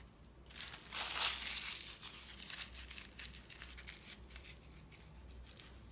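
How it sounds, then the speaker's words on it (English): Tissue paper is crumpled and squished into a ball for stuffing a mini yarn hat, giving a close, loud burst of crinkling that settles into softer rustling. "take your tissue paper, kind of ball it up"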